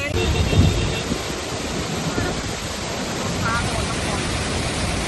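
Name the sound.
waterfall in Kerala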